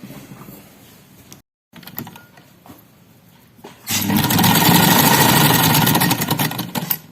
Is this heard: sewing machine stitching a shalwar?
yes